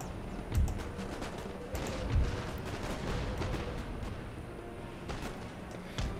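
Howitzer artillery fire on a battlefield in Empire Total War, with several distant booming thuds punctuating a continuous rumble of battle noise.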